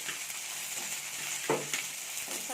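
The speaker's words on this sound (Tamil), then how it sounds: "இப்போ வெங்காயம் நல்லா வதங்கினதுக்கப்புறமா இதோட தக்காளி சேர்த்துக்கிறேன்" Chopped tomatoes go into onions already frying in a pan for a village-style Tamil curry, giving a steady close sizzle with a few spoon clatters and stirring scrapes.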